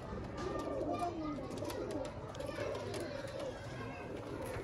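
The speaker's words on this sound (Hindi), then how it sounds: "अहमद भाई कबूतर देख रहे हैं आप, शौक कर रहे हैं?" Pigeons coo steadily in a loft or rooftop coop setting, a low continuous murmur of birds with people talking over it throughout.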